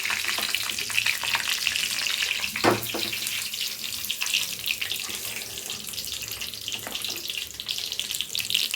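Hot curry-leaf tempering pours into pepper pongal with a hissing, bubbly sizzle, a steady watery crackle with one brief louder splash partway through.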